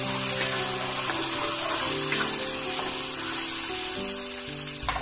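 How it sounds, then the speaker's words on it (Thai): Water is poured into a pan of stir-fried salmon and mushrooms, a continuous close rushing splash and hiss that holds steady for several seconds before cutting off, with no talk. "แล้วก็ตามด้วยน้ำนะคะ"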